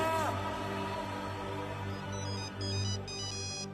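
A phone ringtone plays as a repeating electronic melody, fairly faint, with a steady low hum underneath.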